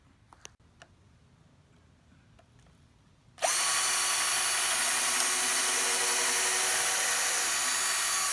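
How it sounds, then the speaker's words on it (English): After a few seconds of quiet with faint clicks, a power drill kicks in driving screws into wood, running loud and steady, a continuous high whine close by. "just you take the drill pilot hole and put the screws through"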